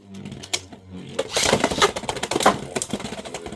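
Beyblade X tops, including a Reaper Incendio T 4-70K, spin and clash in a test battle. Rapid clattering, rattling hits build into a dense burst of close, sharp impacts, and no one speaks.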